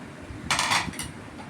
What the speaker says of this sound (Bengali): পুরোটা ভালো করে স্ম্যাশ করে নেব